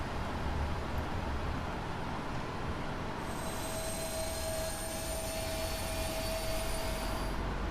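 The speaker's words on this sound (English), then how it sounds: "We're going to start with the engine number 2," The right engine of a Boeing 777-300ER spools up in the Prepar3D flight simulator, a steady loud roar with a rising high whine that enters midway and holds. No one speaks.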